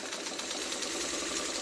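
A sewing machine stitches a quilt block with a steady, fast, even whir that runs without pause, close and moderately loud, with no talking.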